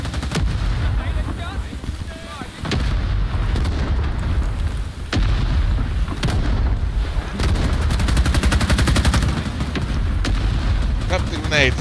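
Grenade blasts and gunfire in the Vietnam War game Rising Storm: Attack on Saigon form a loud, dense battle din with several sharp explosive hits, while voices shout over it.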